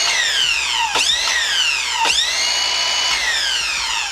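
A Ryobi ONE+ 18V cordless 7-1/4 in. miter saw runs steadily at close range with a high whine, its pitch dipping sharply three times as the blade bites into wood and then recovering.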